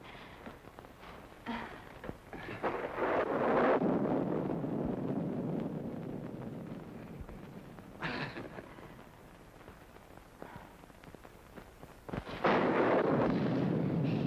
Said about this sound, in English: I just couldn't let Georgie come out in this storm alone.